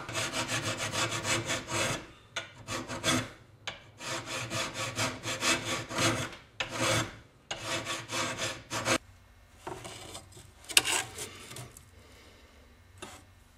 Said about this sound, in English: I come back and file by hand to achieve the final profile.